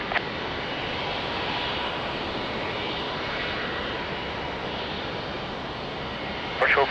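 A jet airliner roars steadily on runway 20 at Lisbon Airport, a loud broadband engine rumble holding without pause throughout, with a brief sharper burst near the end.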